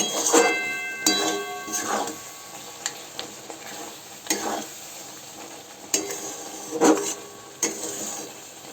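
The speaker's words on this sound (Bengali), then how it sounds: "এবার এটা কিছুক্ষণ ফুটিয়ে নেব।" Jujube pickle with melted jaggery simmering in a pan, heard as a soft sizzling bubble under repeated close scraping strokes of a spoon, with uneven stirring bursts every second or so.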